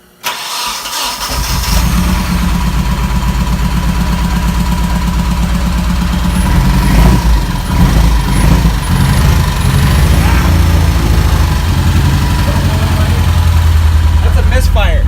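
A built Nissan KA24DE four-cylinder engine cranks and catches, then runs loud and close with a rough, uneven idle from a cylinder misfire, chugging and stumbling throughout.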